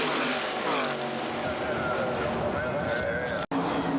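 NASCAR stock cars from the 1989 Busch Clash at Daytona sweep through the tri-oval, engines droning and rising in pitch as the pack passes, with a commentator talking over the race noise.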